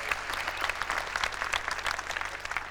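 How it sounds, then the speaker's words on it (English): Dense, steady applause from an audience at a Sydney 2000 Olympics venue training session in the Dome Pavilions, sustained and fairly close throughout without a break. "Please extend your applause also for Jenny Redpath"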